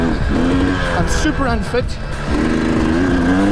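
An enduro dirt bike engine revs and drones loudly throughout a South African enduro race, its pitch rising and falling as the rider works through the terrain, with a rider talking over it.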